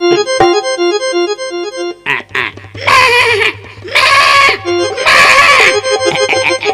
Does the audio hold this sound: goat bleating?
yes